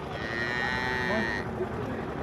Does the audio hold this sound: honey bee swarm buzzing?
no